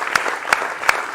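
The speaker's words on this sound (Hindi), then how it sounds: "उनके लिए तालियां हो जाए" Short burst of audience applause at a televised Hindi political talk show, dense clapping with a few sharper peaks, brief and fairly loud with no voices over it.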